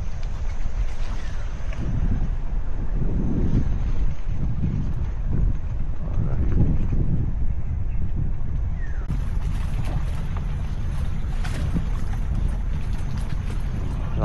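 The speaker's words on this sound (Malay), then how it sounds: "Angin dia." Strong coastal wind buffets an outdoor microphone in Langkawi, producing continuous low rumbling gusts that swell and fade over several seconds, loud and close throughout.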